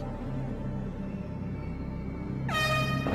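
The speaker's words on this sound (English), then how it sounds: "now we have this air horn going off" In the video game Resident Evil 2, a loud air horn suddenly blares near the end, a sustained harsh tone cutting in over a steady low ambient drone.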